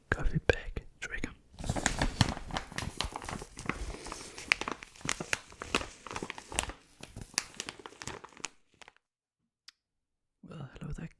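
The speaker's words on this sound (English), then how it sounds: "I'm just gonna do this coffee trigger. Coffee bag trigger." Crinkly coffee bag handled close up in ASMR style, with dense bursts of crackling and clicking packed for about eight seconds, then a short pause and a brief return at the end; whispering drifts in alongside the rustle.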